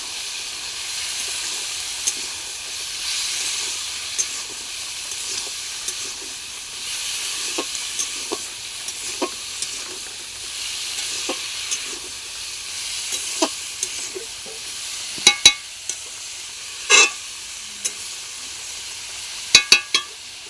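Spiced tilapia with white greens sizzles steadily in a hot pan, a continuous frying hiss broken by scattered taps and scrapes of a spatula as it is stirred, with a few sharper clinks near the end.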